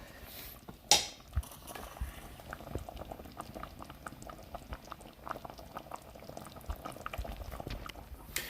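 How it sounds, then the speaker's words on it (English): A pot of sopa with fideo boils at a steady bubbling simmer, with a sharp metallic clink of a utensil against the pot near the start and soft stirring scrapes throughout. "I'm just going to keep stirring the pot"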